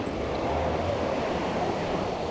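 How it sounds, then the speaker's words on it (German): Steady wind blowing through a Dark Souls 3 game environment, a soft, continuous low rush with no breaks, moderately quiet and alone. "Ist das Wind oder was höre ich denn hier?"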